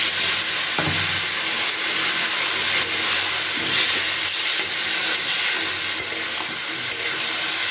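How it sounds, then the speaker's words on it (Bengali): Spice paste for Bengali lentil-cake dhokar dalna fries in hot oil in a pan, giving a loud, continuous close sizzle with steamy hiss and occasional stirring scrapes. "খুব ভালো করে এটাকে নাড়াচাড়া করে কষিয়ে নেব"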